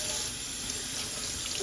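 Tap water runs in a steady, close, continuous stream into a sink while a snapper fish is rinsed, with no other sounds.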